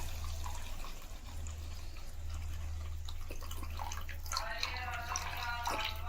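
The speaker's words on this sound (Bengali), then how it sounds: "এবারে আমি জলটাকে দিয়ে দেবো" Water poured into a pan of coriander pabda fish curry with mustard paste, a soft trickling and splashing rising near the end over a steady low hum, with no talk.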